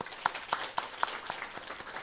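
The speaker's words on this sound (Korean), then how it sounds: "우리 박수로 환영하겠습니다." A church congregation claps during a Sunday worship service to welcome newcomers, a sparse, fairly quiet patter with a few louder claps standing out at a steady, slow rhythm.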